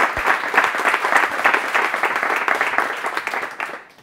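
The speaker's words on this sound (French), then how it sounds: "Tu peux être applaudie encore." An audience at a live event in Mulhouse applauds, a full sustained round of clapping from many people that tapers off and fades near the end.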